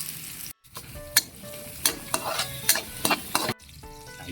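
Garlic fries in oil in a pan for lechon paksiw, with a steady close sizzle and several sharp scraping stirs of a utensil against the metal, briefly cut off by a short silence.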